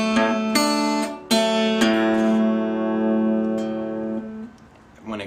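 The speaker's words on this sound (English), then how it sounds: "this first pattern, is going to be a series of 6 notes," Acoustic guitar finger-picking exercise in a country-blues style plays a slow pattern of plucked notes, with a few distinct attacks ringing out and sustaining, close and clear.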